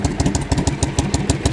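A twin-cylinder motorcycle engine with unbalanced carburettors runs up close with an uneven, lumpy pulsing beat, one cylinder firing harder than the other, with an occasional slight miss.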